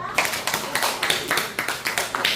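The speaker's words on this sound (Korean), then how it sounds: "박수!" Children clap at a children's church service, a quick run of sharp, evenly spaced handclaps, close and loud, falling into a steady rhythm.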